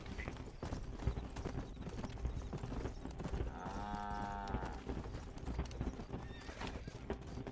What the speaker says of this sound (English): Is that his horse?